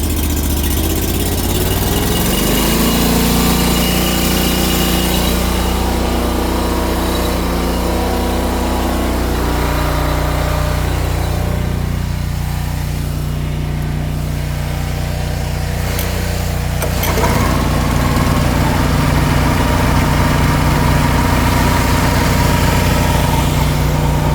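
A Blacks Creek 2500 machine's engine runs steadily for the whole stretch, a loud continuous idle-like drone with a strong low hum and several sustained tones that step in pitch a few times.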